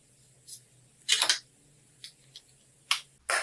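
Mixer attachment snapping into place on a Vienta 1700W blender set: a few sharp plastic clicks and taps spaced irregularly, close and crisp against a quiet room with a faint low hum.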